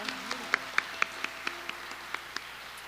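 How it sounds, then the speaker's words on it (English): Sparse, faint claps follow a dance performance at an arangetram, about a dozen distinct hand claps at a fairly even pace over a low steady hum. "Let's give Shreya another well-deserved round of applause"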